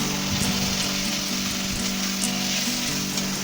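Turmeric, chili powder and spices fry with a splash of water in a pan, giving off a steady, close, hissing sizzle that never lets up.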